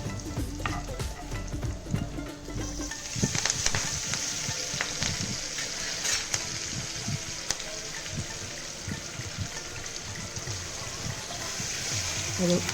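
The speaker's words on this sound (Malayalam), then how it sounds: "അപ്പോൾ ഈ സൈഡിലേക്ക് ഞാൻ 1 സ്പൂൺ വെളുത്തുള്ളിയും 1 സ്പൂൺ ഇഞ്ചിയും കൂടി ഇട്ട് നന്നായിട്ട് വഴറ്റിയെടുക്കുകയാണ്." Garlic and ginger sauté in a pan for a Kerala banana-leaf fish dish, with a steady close sizzle and the scrape of a spoon stirring, the sizzle rising after a few seconds.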